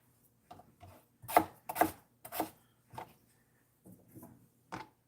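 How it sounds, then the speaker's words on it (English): Knife chopping potatoes and carrots small on a board for a home-made soup, a series of separate crisp cuts in loose irregular rhythm with short pauses, close and moderately loud, with no talking. "going to chop them small-ish"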